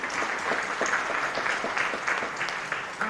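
An audience at a high school senior awards night claps in a brief, steady round of applause, moderately loud and even throughout, with no voices over it.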